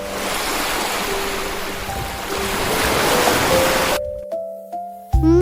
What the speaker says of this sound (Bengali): ঢেউয়ের সাথে নৌকা ভাসে।